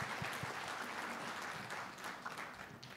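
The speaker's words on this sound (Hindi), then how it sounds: "एक जोरदार तालियां होनी चाहिए उनके सब के लिए।" Audience applause at an ethics talk on the direct selling industry, a dense, steady wash of clapping from a sizeable crowd held at an even level throughout with a slight fade near the end.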